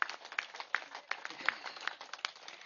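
Steady applause from an audience at a spiritual gathering at Prakruthi Valley, a busy run of many hands clapping with several sharp, louder claps standing out along the way.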